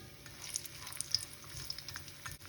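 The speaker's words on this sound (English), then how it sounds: "saute it till they plump up" Raisins sauté in a pan for chevdo with a faint, steady sizzle and scattered soft pops, quiet and close with no voices.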